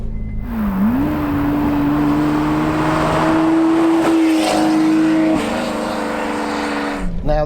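A Ferrari flat-12 fitted with a special exhaust pulls away, its loud engine note rising smoothly and holding steady under acceleration, heard close from inside the car, with a brief gear change near the end.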